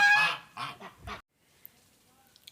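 Geese on a farmyard honk loudly in several harsh bursts close by, then fall quiet, leaving faint background noise.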